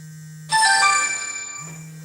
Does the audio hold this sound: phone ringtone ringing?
yes